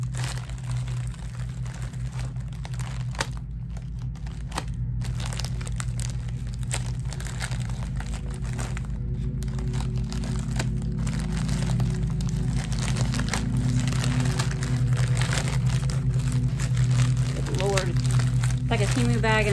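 Plastic packaging from a Temu parcel crinkles and rustles continuously up close as it is worked open, loud crackling texture over a steady low hum.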